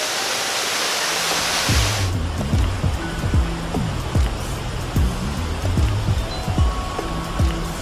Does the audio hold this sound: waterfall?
yes